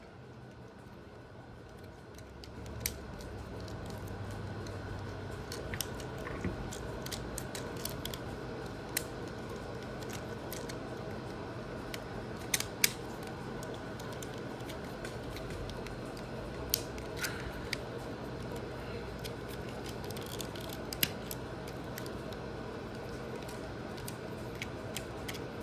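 Small plastic parts of an MP-44S Optimus Prime transforming robot toy click and snap as panels are folded and closed, a steady run of sharp close ticks scattered over a low constant hum.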